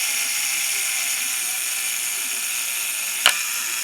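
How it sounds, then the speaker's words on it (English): A Fujica STX-1 film camera's self-timer whirs steadily and evenly, then ends in one sharp mechanical shutter click near the close, loud and nearby. "You pull the lever and you press the release button, and then 10 seconds later the shutter should go."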